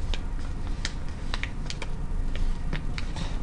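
Paper folded and creased into an origami hummingbird, with close, quiet dry crinkles and sharp little taps scattered over a steady background hiss.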